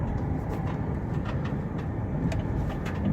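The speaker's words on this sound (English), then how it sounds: "Van operates smoothly. It's a nice ride, nice quiet ride down the highway." 2006 Chevy Uplander wheelchair mobility van cruising down the highway, with a steady, even road and engine rumble that stays low and continuous throughout.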